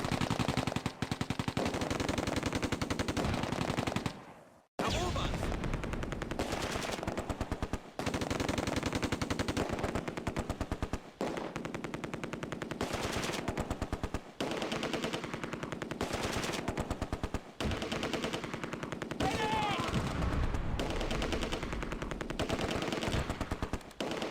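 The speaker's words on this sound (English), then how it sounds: "The rifle section and Vickers target Schützen and an MG42." Vickers and MG42 machine guns fire in the Close Combat war game during fighting at Oosterbeek, loud sustained bursts of rapid automatic fire with brief pauses and one short gap, alongside other gunshots.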